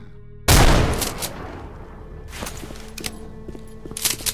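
One loud, close SMG-11 shotgun blast from STALKER: Shadow of Chernobyl fires sharply, then rings out into a long decaying tail, followed by lighter clicks and shuffling movement.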